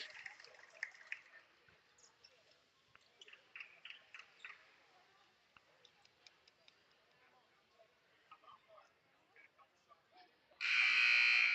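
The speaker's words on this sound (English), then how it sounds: "And there is the buzzer" A loud, sustained game buzzer blares at the very end of a high school basketball game, after a stretch of indistinct arena chatter and voices.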